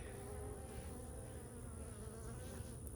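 Honeybees buzz in a constant, close droning hum with a steady pitch during a hive inspection, no talking.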